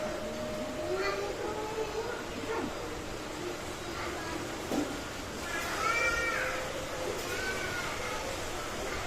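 A three-month-old kitten meows in repeated short, rising cries at close range, mixed with a person's voice cooing and imitating the meows.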